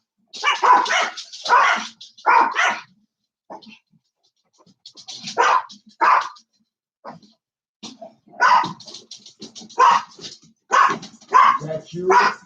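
A dog barks in short bursts and whimpers indoors, the yelps coming in several clusters with quiet gaps between them, while a person speaks firmly at intervals.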